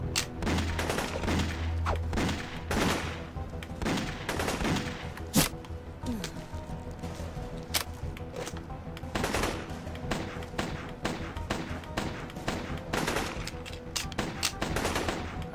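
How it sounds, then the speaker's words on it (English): Rapid automatic gunfire rattles in repeated bursts while an enemy is shot in the video game Dex, sharp cracks coming in clusters over steady ambient game sound, with a few heavier thuds scattered between. "I'm shooting you in your head, but it's not working."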